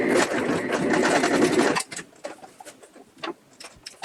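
A sewing machine backstitches across a seam in backpacking gear, whirring in a fast, close, continuous run for nearly two seconds before stopping, after which quieter clicks and faint bird coos remain.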